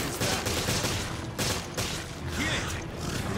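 Bursts of gunfire in the Resident Evil video game, several quick volleys with mechanical clacks between them, loud and close, no voices over them.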